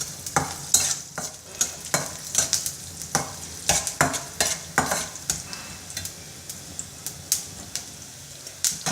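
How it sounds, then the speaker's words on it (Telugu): Cumin and coriander seeds roasting in hot oil for a Telugu tomato chutney, a close sizzle broken by repeated sharp scraping strokes of a spoon in the pan, irregular and fairly loud, with no talk. "నూనె వేడెక్కిన తర్వాత జీలకర్ర, ధనియాలు వేసి దోరగా వేయించుకుంటాం."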